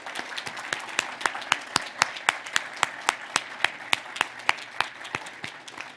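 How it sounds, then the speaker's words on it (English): Sparse applause at a volunteer awards ceremony for the recipients, a small number of distinct, evenly spaced claps in a steady rhythm, fairly quiet and spread across the room. "A round of applause, please, for all our award recipients."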